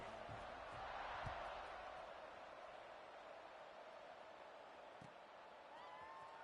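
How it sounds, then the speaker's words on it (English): A stadium crowd in the NCAA 26 college football video game buzzes after a score, a broad, steady, distant roar with a few faint thumps and a play-by-play voice over it. "this crowd is buzzing after that last score"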